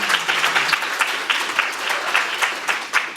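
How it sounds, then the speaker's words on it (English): At a cohort graduation ceremony in a conference room, an audience gives a round of applause, a lively patter of many hands clapping in uneven bursts close by. "He gets an extra round of applause."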